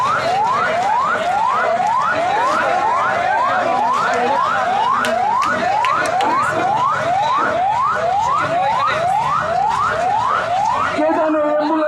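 An ambulance siren wails in rapid rising sweeps, a loud, close, evenly repeating cycle that carries on through the whole stretch above a murmur of crowd noise at a fire.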